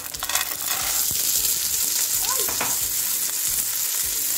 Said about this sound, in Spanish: Pues le vamos a añadir los guisantes congelados